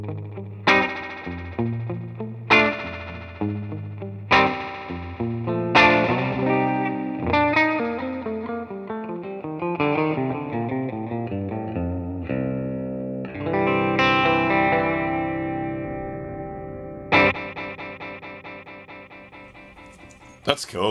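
Guitar run through a ToneX amp modeler with a digital ping pong delay, loud strummed chords and picked notes trailing into bouncing repeats that smear together over about twenty seconds.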